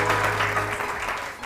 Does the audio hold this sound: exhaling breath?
no